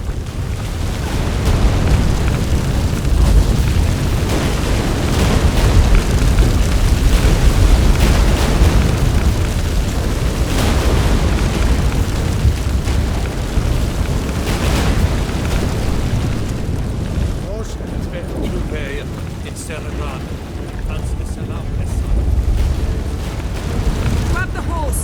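A deep, continuous earthquake rumble in the video game The Witcher 3: Wild Hunt, with crashing, booming debris rolling on for a long stretch, loud and heavy, with occasional voices over it.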